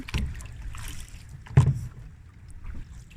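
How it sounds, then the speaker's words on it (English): A canoe being paddled on a river through Edmonton, with soft splashing paddle strokes, one stronger dip and swirl in the middle, and light wind noise on the microphone, close and unhurried. "We're just leisurely paddling here."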